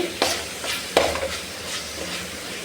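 Coriander rice mixture sautés in a pan with a soft sizzle under a couple of sharp scraping stirs of a spoon early on, then settles into a quieter fry, close and without speech.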